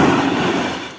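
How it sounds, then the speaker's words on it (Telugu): A train runs along the tracks with no driver aboard, a dense rumbling roar of wheels and carriages heard close and loud, fading slightly toward the end. "ఈ వీడియో అయితే సోషల్ మీడియాలో డ్రైవర్ లేకుండా రైలు ఎట్లురికిందో"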